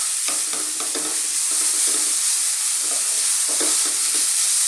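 Onions sizzle steadily in a pan over medium heat, a close, continuous hiss with soft scraping strokes as they are stirred and moved around.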